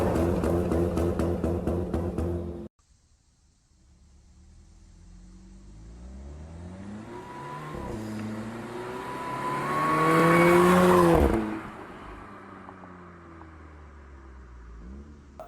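A VW Jetta with an AWE Touring exhaust, an APR Stage 1 engine tune and an APR transmission tune revs hard and close. A loud burst cuts off sharply, then the engine climbs through rising revs to a peak and drops away.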